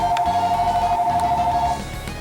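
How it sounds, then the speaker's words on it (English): Phone going off beside a Digital Alert Systems DASDEC-II emergency alert unit, a loud steady electronic tone held for nearly two seconds over a low background hum, then cutting off. "As you can see, the phone's going off."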